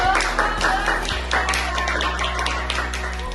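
A classroom claps for a presentation, a short burst of applause from a group of students with uneven overlapping hand claps, fairly close and moderately loud.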